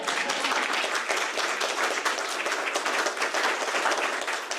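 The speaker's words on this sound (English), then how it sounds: "Can we clap now? We can clap." Audience at a county leadership roundtable applauds, with dense, steady clapping that stays loud and even from start to finish.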